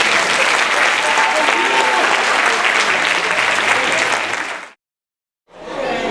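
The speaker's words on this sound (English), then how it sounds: "Let's give them one more round of applause." An audience at the Monmouth Junction Elementary School spring concert gives loud, dense applause that fills the room, then cuts off abruptly into a brief silence before the clapping picks up again.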